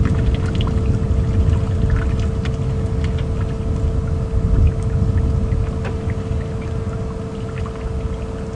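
A large elephant bull drinks water with its trunk on a safari drive at Djuma Game Reserve, a steady loud rush of pouring, sloshing water under a low idling engine hum, with no one talking.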